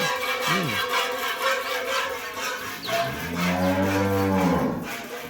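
A high-quality dairy cow on a farm in Shariatpur gives a single long, loud, close moo lasting over a second, with a brief lower grunt before it and steady outdoor background noise.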